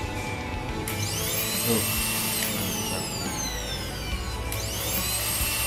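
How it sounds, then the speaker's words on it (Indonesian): A vacuum cleaner running from a solar power inverter starts up with a rising whine and keeps a steady, loud motor drone and hiss. There is a brief spoken word near the start. "Nih, saya coba hidupkan vakum."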